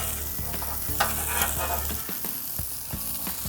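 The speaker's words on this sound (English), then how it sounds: "Now I'm going to scatter the potatoes around the edge. In fact, I'm using both spatulas for this." Yukon Gold potatoes sizzle in a hot pan while two spatulas push and scrape them around the edge, giving repeated sharp metallic taps over steady frying.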